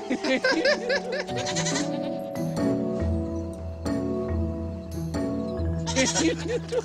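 Several goats bleat loudly and repeatedly, overlapping cries over a sustained musical backdrop.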